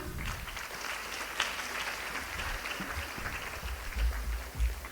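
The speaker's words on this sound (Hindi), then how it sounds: "पुनः जोरदार तालियां।" Crowd at a school event claps steadily and densely throughout, a continuous wash of applause with no one speaking.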